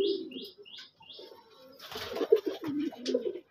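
Several red native pigeons coo at a loft, with a run of short repeated calls followed by lower, fuller cooing and light fluttering, fairly close and alone.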